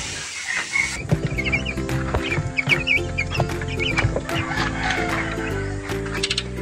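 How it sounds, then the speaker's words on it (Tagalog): Chicks cluck and peep steadily while feeding at breakfast on a small farm plot, with a rooster's crow mixed into the busy, continuous flock chatter. "Masaganang almusal ng ating mga sisiw."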